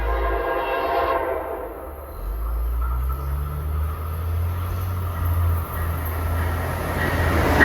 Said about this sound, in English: approaching is Amtrak 56 from Washington, D.C. to St. Albans